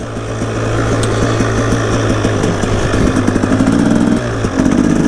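A Husaberg TE 300 two-stroke dirt bike engine runs steadily and loud throughout on a forest ride, with a buzzing, rattly tone that shifts slightly in pitch and has no talk over it.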